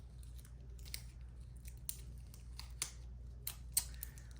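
Scissors cut open packaging to reach a card inside: a series of faint, sharp snips and crinkles at irregular intervals, close by over a quiet background.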